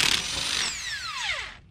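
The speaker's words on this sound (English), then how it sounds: "take our 19mm socket and remove the lug nuts" Power tool with a 19mm socket spinning off lug nuts on a 2002-2010 Ford Explorer, a close whirring whine that winds down in pitch over under two seconds, no talk.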